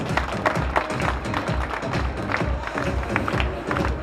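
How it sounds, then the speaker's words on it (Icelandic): An audience claps for a rider at a horse show, a steady patter of many hands at moderate distance, with crowd murmur and no clear talk above it. "Daniel finnst aldrei leiðilegt að láta klappa fyrir sig."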